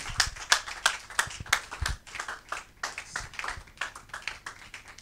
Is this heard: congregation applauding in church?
yes